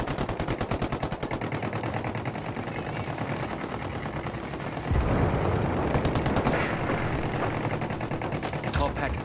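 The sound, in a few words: gunfire exchange between rebels and cartel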